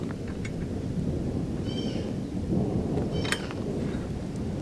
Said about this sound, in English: the thunder's rolling in and it is now starting to rain